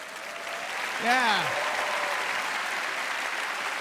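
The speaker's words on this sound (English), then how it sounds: "A big round of applause." Steady, fairly close applause from a stand-up comedy audience fills the whole stretch, with one short shout rising above the clapping early on.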